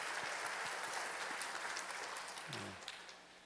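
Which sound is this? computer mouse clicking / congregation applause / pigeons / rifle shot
congregation applause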